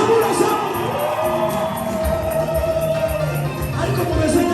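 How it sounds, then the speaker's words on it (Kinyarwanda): Worship congregation cheering and ululating together during praise and worship, a dense, continuous crowd roar with a sustained high trilling tone running through it. "tuvugirize Imana impundu"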